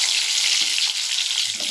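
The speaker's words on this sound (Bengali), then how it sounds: "এবার এক এক করে আমি বেগুনগুলোকে একটু ভেজে নেব।" Eggplant pieces sizzling in white oil in a pan, a steady close hiss of frying with a faint watery crackle throughout.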